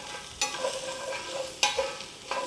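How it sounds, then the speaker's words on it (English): Onions and garlic sizzle in butter in a pan, with a soft continuous fry broken by a few sharp scrapes of a utensil stirring them. "the combination of onions and garlic, stir fry in butter"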